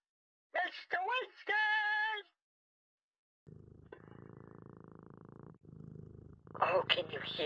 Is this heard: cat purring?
yes